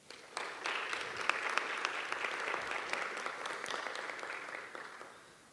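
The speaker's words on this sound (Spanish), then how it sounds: "solicitamos fuerte aplauso" Audience applause at a university inter-faculty debate, a dense round of clapping that starts abruptly, holds steady at moderate level with a few sharp individual claps, then fades toward the end.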